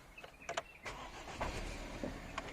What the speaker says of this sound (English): Now need to start the engine.